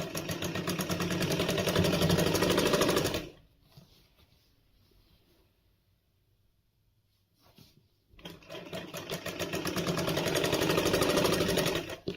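A sewing machine stitches palazzo pant legs in a loud, close, steady whirring run, stops for several seconds of near quiet, then starts up again at full speed; no one talks.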